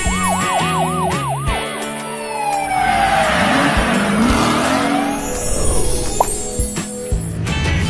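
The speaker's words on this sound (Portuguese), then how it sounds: "Carro de polícia." A toy police car's wailing siren loops in rapid up-and-down cycles, then gives way to whooshing, skidding motor noise and clatter, loud and close, with no talk.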